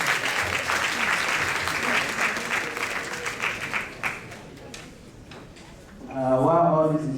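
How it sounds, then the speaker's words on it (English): Audience clapping at a football gala awards event, steady dense applause for several seconds that thins out, followed by a voice speaking. "let's give them a hand of applause"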